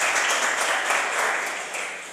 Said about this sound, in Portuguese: Vamos receber o pastor Luiz, que vai trazer a palavra aplaudindo o nome de Jesus